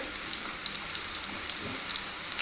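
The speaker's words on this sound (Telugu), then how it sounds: "మనకు లైట్ బ్రౌన్ వచ్చే వరకు మనం ఫ్రై చేసుకుందాం" Bombay rava semolina snacks frying in hot oil, giving a steady, fine sizzle with constant crackling pops at moderate level and no voices.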